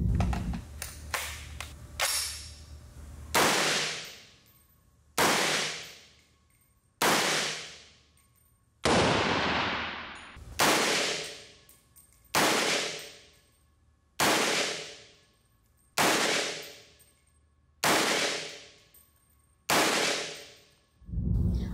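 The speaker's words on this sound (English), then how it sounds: "We'll start out with subsonic ammo and no suppressor." An unsuppressed 8.6 Blackout AR-10 pistol fires subsonic ammunition outdoors. A quick cluster of shots is followed by about eight loud, sharp single reports at a steady pace, each trailing off in a long echo.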